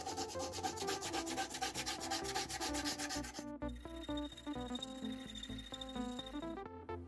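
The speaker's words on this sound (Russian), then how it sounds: "взял вот такую вот наждачную бумагу и вот таким вот образом начинаю обрабатывать" Sandpaper rubbed by hand over a knife made from a chainsaw blade, rhythmic back-and-forth rasping strokes close up, fast at first then slower and more spaced.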